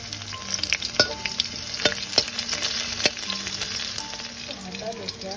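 Crushed garlic frying in hot oil in a pan for Amritsari chole, a loud, close, continuous sizzle broken by sharp clinks and scrapes of stirring, with no talking.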